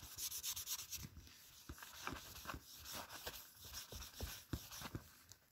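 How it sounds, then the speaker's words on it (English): Someone scrubs the oxidized anodized aluminium trim of a BMW E32/E34 by hand, making quiet, irregular rubbing strokes that come in short rhythmic bursts close to the microphone. "So then if you scrub it some more"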